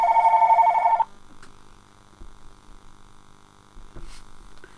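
A telephone rings once, loud and close, a steady warbling tone lasting about a second in a quiet press box before it cuts off, leaving faint room hum and a few small knocks.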